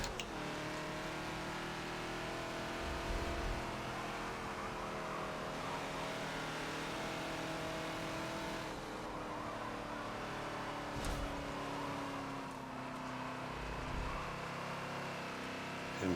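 In the Forza racing game, a Ford Falcon XB's engine drones continuously around the Maple Valley circuit, holding a steady tone that rises and falls gently with throttle, with a couple of brief bumps or tire scuffs along the way.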